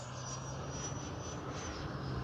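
An FMS Rafale 80mm RC electric ducted-fan jet flies overhead, making a steady, continuous whine and rush that holds loud and even throughout, with no talking.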